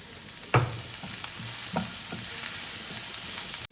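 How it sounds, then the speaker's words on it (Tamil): Chopped snake gourd and garlic sizzle softly in a pan, with a few scraping stirs of a spoon close by under a constant frying hiss. "இப்போ இந்த புடலங்காவை இந்த மாதிரி குட்டியாக கட் பண்ணி வச்சுருக்கேன் அதையும் உள்ளே சேர்த்துக்கலாம்"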